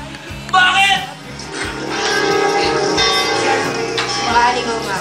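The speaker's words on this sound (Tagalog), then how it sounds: "lagi ko naririnig ang kampana ng simbahan" Church bells ring out in a Filipino rehearsal setting, sounding steadily under a dense wash of music and voices for about five seconds, fairly loud throughout.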